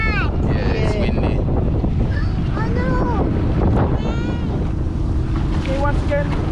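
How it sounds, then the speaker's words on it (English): Strong wind buffets the microphone on a tropical Fiji shore with surf, a steady loud roar throughout while voices talk over it. "it's windy."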